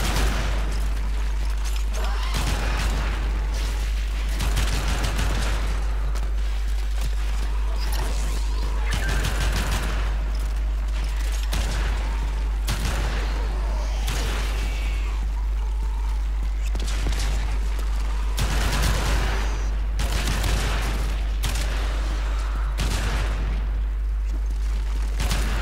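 Pyrana shotgun fire in the video game Warframe as a large group of enemies is cleared, a dense barrage of loud, booming blasts in rapid succession over a constant low rumble of game noise.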